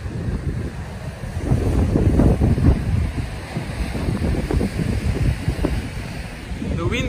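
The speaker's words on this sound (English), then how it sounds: "The wind speed has picked up to 31 kilometers an hour." Strong coastal wind at high tide during Tropical Cyclone Batsirai, a loud continuous roar and buffeting against the microphone with surf rumbling underneath.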